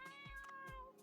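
A Minecraft cat meows twice in quick succession, each call a short rising-then-falling mew over a steady background tone of in-game ambience.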